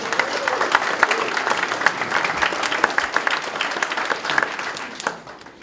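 Guests at a humanist wedding applaud Tommy, Margaret and Avril in a steady, full round of clapping from the room that holds on, then fades near the end.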